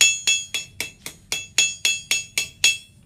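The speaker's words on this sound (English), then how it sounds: "Actually, I want to use a bigger hammer." Eleven sharp metallic strikes of a hammer on sheet metal being formed into a cone, at an even, quick pace, each leaving a bright ringing tone, close and loud.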